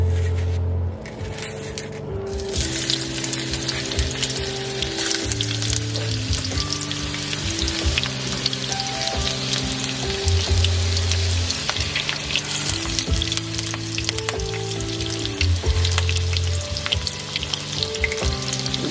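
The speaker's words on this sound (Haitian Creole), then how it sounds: "nous allons mettre oignons frits avec kalalou" Onions frying with okra in a pan for Haitian fried rice, a loud, steady sizzle with crackling spatter and occasional stirring, heard close and continuous throughout alongside background tones.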